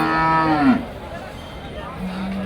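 Cows lowing at a livestock market in Ranebennur where HF, Jersey and Hallikar cattle are sold: one loud, drawn-out moo up close, then a quieter, lower moo after a short pause.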